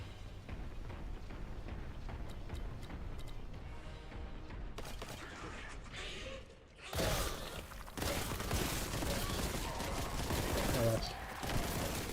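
Sustained gunfire from Boltgun, a retro shooter game, with a dense, continuous barrage that grows louder and harsher partway through, layered with mechanical clatter and crashing impacts, no talking.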